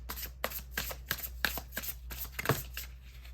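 Tarot deck being shuffled by hand, a rapid series of crisp papery riffs and taps at close range, fairly quiet, with no talking.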